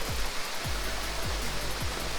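A waterfall in Kingston, Jamaica roars in a loud, continuous broadband rush close by, with soft repeated thumps underneath.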